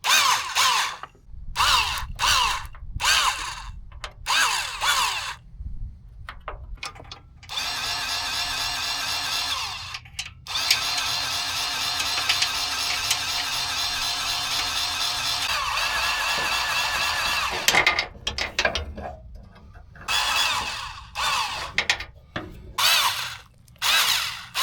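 A cordless grease gun on a DeWalt 20V battery greasing hinges, its motor whirring loud and close in repeated short bursts with one long continuous run in the middle, separated by brief pauses.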